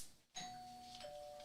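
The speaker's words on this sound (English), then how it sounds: "Oh, my doorbell keep ringing." A doorbell chimes at a home during a Christmas party, one clear ding-dong tone that rings out and lingers, fairly faint against a quiet room.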